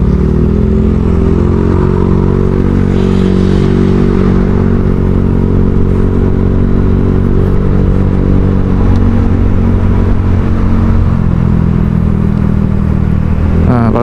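A Honda Vario 150 scooter fitted with a Kenziro aftermarket exhaust drones loud and continuous while riding, a steady deep engine hum with road and wind noise and no pauses.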